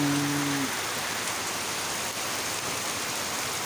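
Heavy rain comes down in Ban Dung, Udon Thani, Isan, Thailand as a loud, unbroken wash of hiss. A brief steady tone sounds over it at the very start and then fades, and no one speaks.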